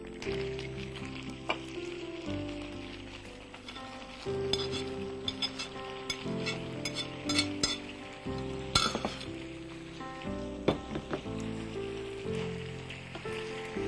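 Chaat ingredients with vinegar are stirred in a hot pan, giving a continuous close sizzle broken by frequent spoon clinks and scrapes, with no voices.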